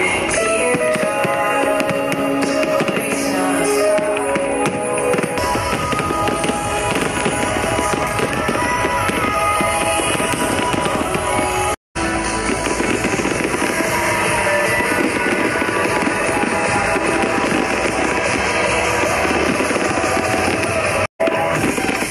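Fireworks bursting in the sky above an EDC Las Vegas festival set, a dense, continuous barrage of loud crackling booms layered over pounding electronic music, with two brief dropouts.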